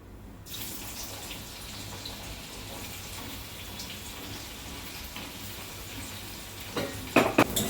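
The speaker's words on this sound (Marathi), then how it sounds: "आता हा बारीक चिरलेला कांदा टाकूया." Finely chopped onion is tipped into hot oil with cumin and mustard seeds for pav bhaji, giving a steady broad hiss of sizzling that fills the whole stretch, with a few louder crackles and clatters toward the end.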